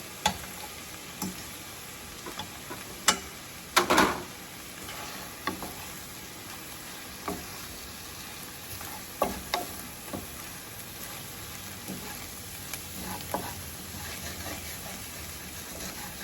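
Shrimp cauliflower fried rice stirred in a frying pan, a steady sizzle with scattered scraping knocks of the spatula, a couple of sharper clatters early on, no talking.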